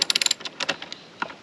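A ratchet tool clicks rapidly several times, then works in slower bursts as it loosens a foot peg bolt on a 2022 Triumph Tiger 1200 Rally Explorer motorcycle, close and sharp with no talk.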